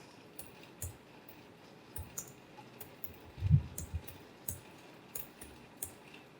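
Computer mouse clicking a save button in STAAD RCDC design software, a scatter of faint, sharp clicks with one slightly louder thump near the middle, close and alone.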